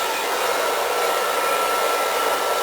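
A soft hood bonnet hair dryer runs steadily, a loud continuous airy whoosh held close in a lap, with no talking.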